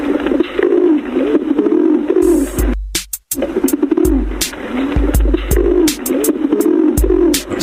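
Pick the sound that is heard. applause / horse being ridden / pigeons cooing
pigeons cooing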